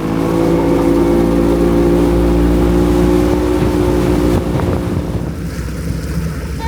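Outboard motor on a small aluminium tinny runs loud and steady close by, a continuous droning hum with wind buffeting the microphone and water rushing past, easing slightly toward the end.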